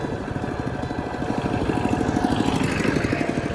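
A two-wheel walking tractor used as a vehicle on a rural road in Champhone, Savannakhet, its small single-cylinder engine chugging in a fast steady pulse, close and continuous with no talk.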